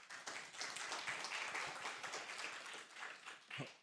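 A conference audience in a Korean seminar hall applauds a speaker taking the podium: soft, steady, dense clapping heard from a distance, continuous for several seconds.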